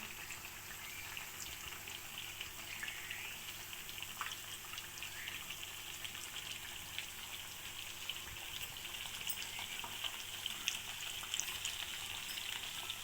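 Chicken lacha pakora deep-frying in oil over a medium-low flame, giving a steady, soft, continuous sizzle and crackle throughout with no talking.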